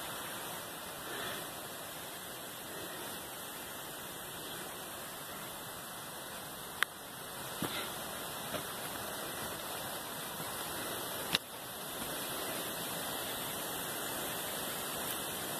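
A distant waterfall roars below a steep mountain trail, the Trilha dos Tropeiros in Tajuvas, Morrinhos do Sul, giving a constant broadband hiss with a few brief knocks and clicks over it.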